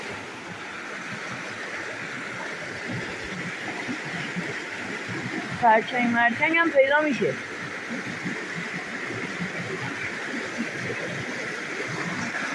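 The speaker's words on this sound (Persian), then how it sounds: "اینجا صدای آب زیاده." Steady rushing stream water flows through a northern forest, a continuous broadband wash that stays loud throughout, with a voice briefly speaking over it midway.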